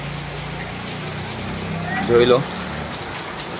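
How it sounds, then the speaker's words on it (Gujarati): Heavy monsoon rain on the third straight day of downpour makes a steady, dense hiss that fills the whole stretch, while a person briefly speaks close by near the end. "પાણી પણ ઓછું નથી થતું અને વરસાદ મેઘરાજા મહેરબાન કરે છે"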